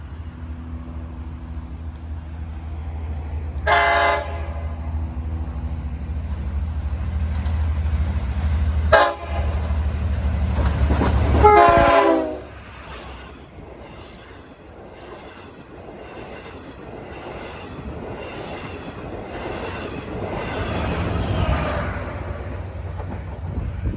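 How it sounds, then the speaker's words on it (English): An LIRR Montauk Branch passenger train rumbles past a grade crossing, loud and close. Horn blasts sound around the four- and twelve-second marks, then wheels squeal and clatter as the cars roll by. "it's a regularly scheduled train, but it had to pick up passengers from 6008 at Hicksville, so he's running a little heavier than usual"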